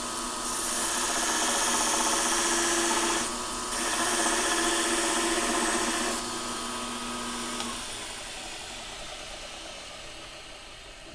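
Belt grinder grinding a bevel on a metal edge on the flat platen, a steady, loud abrasive hiss with a motor hum, briefly dipping near the third second before the grinding eases off and the motor winds down.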